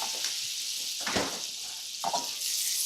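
Butter sizzling in a pan for shrimp scampi as lemon juice goes in, a steady close hiss with two brief louder bursts of spitting where the liquid hits the hot fat.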